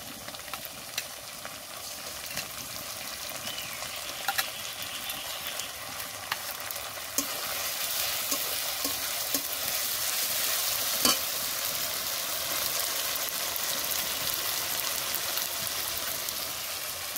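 Cumin paste and green and red chillies frying with ginger and garlic in a pan, a steady close sizzle with occasional stirring clicks, growing slightly louder and denser partway through, no voices.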